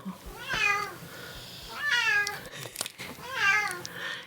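A cat meows three times, each call rising and falling, fairly close with short pauses between and no talking.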